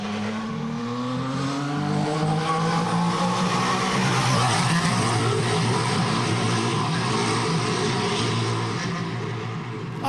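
A 2014 Formula 1 car at pre-season testing in Jerez comes into the pits, its engine note sliding steadily downward in a long continuous whine with growling texture, loud and fairly close throughout.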